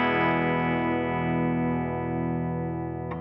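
A clean electric guitar chord through a Fender Tone Master Pro preset with tremolo, small hall reverb and digital delay rings out steadily and slowly fades, with a faint click at the end.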